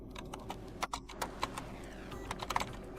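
Keys pressed on a computer keyboard while using tmux on Linux, Ctrl B combinations and arrow keys giving scattered, uneven clicks and taps, close and fairly quiet.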